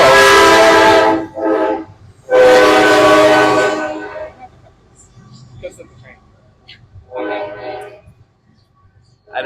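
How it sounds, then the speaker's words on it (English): Train passing with two long, loud horn blasts close together, followed by rumbling rail noise and a third shorter horn sound further on. "I didn't know there would be a train."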